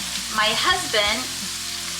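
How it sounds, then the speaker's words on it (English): Sausage and hamburger browning in a pan, a steady close sizzle and fry running throughout, with a person talking over it. "I am browning a roll of sausage and a pound of hamburger."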